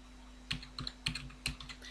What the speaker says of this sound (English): So I'm going to type in the password.